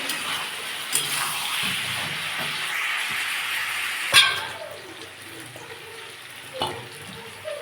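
Chilli powder and turmeric fry in a pan with a steady broadband hiss and sizzle, broken by occasional clinks and one sharper crackle midway, fairly close.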